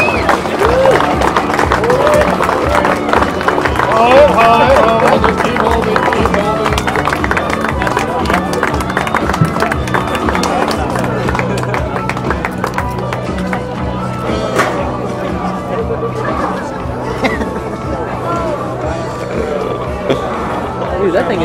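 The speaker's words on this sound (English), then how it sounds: "how about a big round of applause for the 2008 costume contest winners?" Crowd at a 2008 Halloween costume contest applauds the winners, a dense, steady wash of clapping and cheering that holds for about twenty seconds with voices and hubbub mixed throughout.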